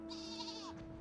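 A single sheep bleats briefly and clearly in a video game, a short wavering cry over a faint steady background tone.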